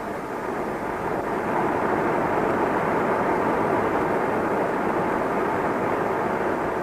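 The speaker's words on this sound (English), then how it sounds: "Europe is forgotten as the jet climbs to cross the Atlantic." A jet airliner climbs out to cross the Atlantic, heard as a steady, broad roar of engine noise that holds at an even level throughout.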